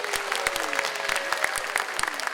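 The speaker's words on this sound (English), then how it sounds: "give her some applause" Audience applause in a meeting room after a call to approve a paraprofessional representative, a steady patter of many hands clapping at moderate distance for a couple of seconds with faint talk beneath.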